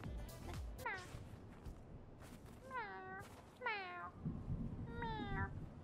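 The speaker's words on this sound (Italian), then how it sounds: "C'è un gatto in casa che ti fa così" A cat indoors meows four or five times, each a drawn-out, falling cry. The meows are quiet, with low household background noise and some murmuring underneath.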